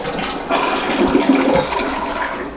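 A hotel bathroom toilet flushes with strong water pressure, a loud rushing swirl starting about half a second in and carrying steadily to the end, heard up close with no talking.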